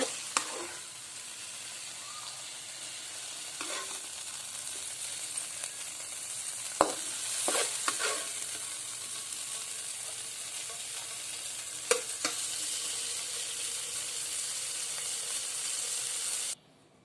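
Banana blossom stir-fries with spices in a pan with a continuous bright sizzle. A few sharp spatula scrapes and clicks break in over the hiss, and the sound stops abruptly at the end.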